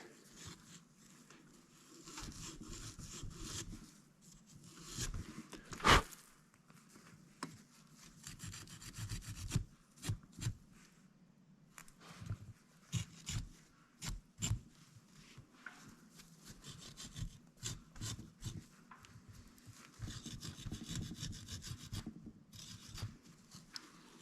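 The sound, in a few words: scrubbing fuel injector lightly with Scotch-Brite pad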